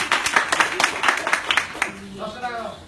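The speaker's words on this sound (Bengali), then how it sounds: "দারুন দারুন, হাততালি সবাই।" Rhythmic clapping from an audience at a lively street performance in North Kolkata, a steady run of sharp claps for about two seconds before a voice speaks.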